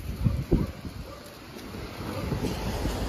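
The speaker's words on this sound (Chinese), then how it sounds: "虽然说刮风，但是还行" Wind blows outdoors in a steady, low rumbling gust with some buffeting against the microphone, moderately loud, with no talking.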